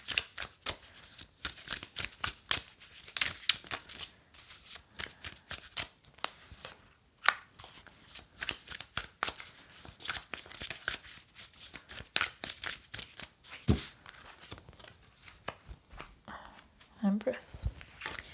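Tarot cards being shuffled during a reading, a long run of rapid papery riffles and flicks, close and steady, with a voice talking quietly at times.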